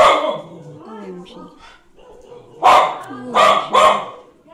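Several dogs bark together in a few loud, close bursts, with a voice speaking softly before and between them.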